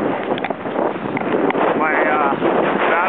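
Strong outdoor wind after rain buffets the microphone in a loud, continuous roar with gusting swells, unbroken for the whole stretch.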